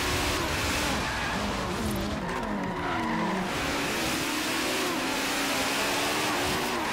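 An Audi Quattro in Forza Horizon 3, engine roaring steadily under load while the tires skid and squeal through a long slide, loud and continuous throughout.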